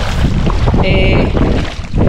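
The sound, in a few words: strong wind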